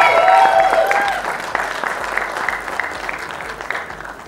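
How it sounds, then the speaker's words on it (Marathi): Loud audience applause fills a film teaser launch event, with dense clapping from a crowd that starts strong and slowly thins out toward the end. "जोरदार टाळ्या झाल्या पाहिजे"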